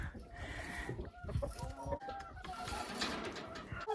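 Hens that lay dark chocolate and green eggs cluck and squawk inside a henhouse, a busy overlapping chorus near and far with a faint crow.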